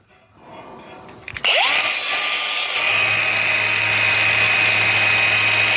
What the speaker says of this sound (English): I'm taking off all these little burrs that'll scratch me eventually